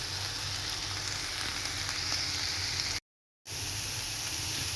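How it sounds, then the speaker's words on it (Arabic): Onion frying in a hot pan gives a steady, moderate sizzle and crackle, broken by a short moment of silence before the sizzling resumes. "هذا البصل راح اقلبه وارجع لكم مرة ثانية"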